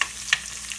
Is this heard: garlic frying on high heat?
yes